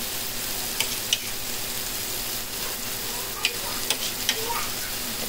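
Blended chili and capsicum paste goes into a fish curry frying in a pan. A continuous close sizzle carries a few sharp clicks and scrapes from stirring, with no talking.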